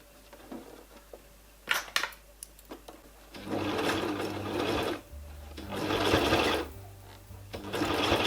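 A sewing machine stitches a zipper into fabric, starting with a few sharp mechanical clicks, then running in two steady, fairly close whirring bursts separated by brief pauses.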